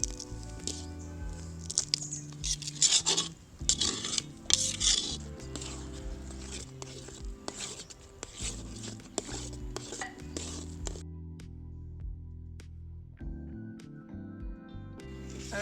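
Thickened mawa (milk solids) is stirred in a pan with a spoon, producing a long run of close scraping, rubbing and clinking strokes that are busy early on and then settle into quieter, sparser scrapes.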